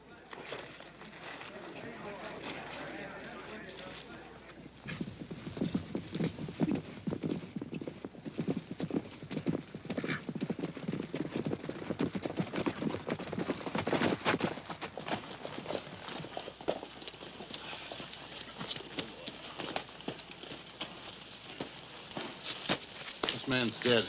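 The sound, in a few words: horses clip-clopping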